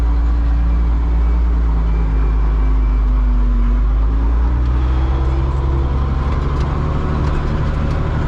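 Renault tractor engine ploughing a field in Kashubia, a steady loud low diesel drone running continuously up close, with its pitch shifting slightly midway as load changes.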